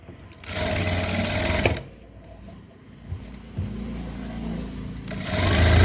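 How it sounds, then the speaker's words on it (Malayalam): An electric sewing machine stitches a blouse back neck in two loud whirring bursts, with a quieter pause between them as the fabric is handled, and a third run starting at the end. "തയ്ച്ച് വരണേ. ഇങ്ങനെ തയ്ക്കണം."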